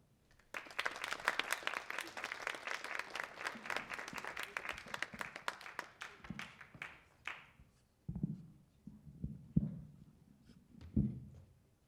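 An indoor audience in Ann Arbor applauds to welcome the artist Guo Zheng, a dense burst of clapping for about seven seconds that fades out, followed by footsteps and handling knocks.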